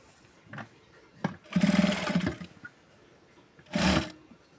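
A sewing machine stitches blouse fabric in two short whirring bursts, the first longer than the second, with quieter handling sounds between them.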